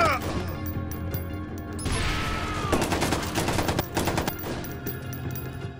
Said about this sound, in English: looks like I'm pulling out a serious gun now